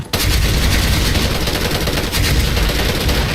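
An HK417 rifle fires bursts in the video game Special Force 2, a dense rapid string of loud shots continuing almost without pause.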